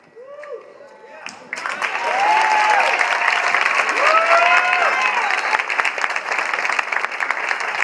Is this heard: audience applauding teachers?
yes